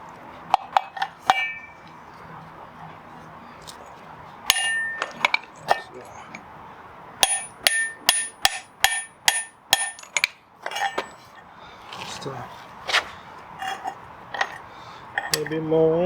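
A washer and a 32mm socket clink and tap against metal while being fitted onto the center support bearing of a BMW E46 with a twin-turbo N54, sharp close metallic knocks in uneven runs with brief pauses between.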